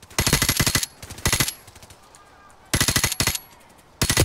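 Loud, close bursts of automatic gunfire in Modern Warfare Remastered come in four separate volleys of rapid shots, separated by short quiet gaps.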